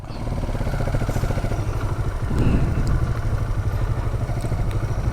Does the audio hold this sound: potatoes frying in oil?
no